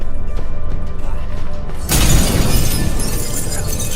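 A mirror shatters in Witcher 3 with a sudden loud crash midway, and glassy debris sprays and rattles for a couple of seconds after the break. A low, steady game ambience sits beneath it.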